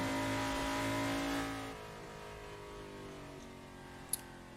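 A modded BMW in a video game drives along, its engine note steady and fairly loud before easing to a lower, quieter hum, with a brief sharp click near the end.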